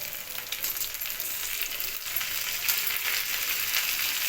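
Cashews and tomato pieces frying in a pan produce a continuous, fairly close hissing sizzle with faint crackles, with no talking.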